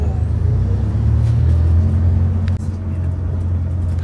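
Bangkok road traffic from inside a van in the late afternoon, a steady low engine and road rumble that holds throughout with a brief dip near the end.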